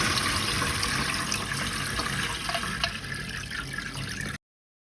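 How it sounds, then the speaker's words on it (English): Beans are rinsed under running water in a kitchen sink before pressure cooking, a close, steady splash and trickle that carries on evenly, then stops abruptly. "So I'm still going to wash the beans"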